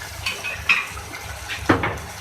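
A metal spoon scrapes and knocks against a pan while mixing a potato and egg breakfast mixture, with a few scattered clinks and one louder scrape, close and alone.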